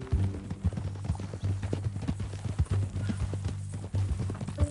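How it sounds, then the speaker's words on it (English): Horse hooves clip-clopping in Red Dead Redemption 2, a close, steady walking rhythm of clear hoof strikes throughout, with light voices in the background. "That a new horse?"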